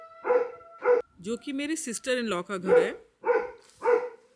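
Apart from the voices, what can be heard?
dog barking at a stranger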